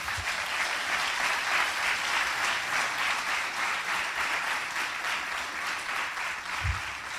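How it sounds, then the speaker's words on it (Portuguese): A church congregation at a Sunday celebration applauds for Jesus, a broad sustained crowd clapping with a pulsing rhythm that stays loud for about seven seconds, a low thump near the end. "Responde a isso com um aplauso para o Senhor Jesus, porque Ele é digno."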